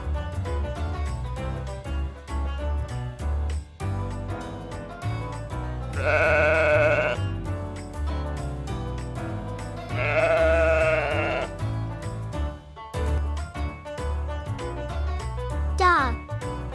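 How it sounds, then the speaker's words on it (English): Sheep bleat in two long, wavering calls, loud and close over a bouncy children's music backing, with a short spoken word near the end. "sheep,"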